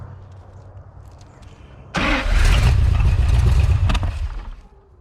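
A big cam big block Chevy engine with an idle fault bursts to life after a quiet start, then runs loud and rough with an uneven, lumpy idle that surges and sags before easing off near the end.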